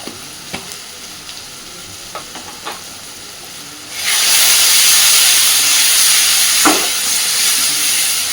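Spice masala with chilli powder and pepper is stirred in hot oil for chicken kosha, with a few light utensil taps before a loud, steady sizzle and hiss bursts up and continues close by.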